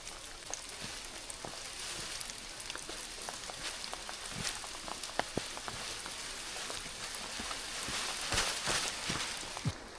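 Rain falls steadily on an open, steep mountain trail under a white sky, a soft continuous patter with scattered sharper drops close by, no voices.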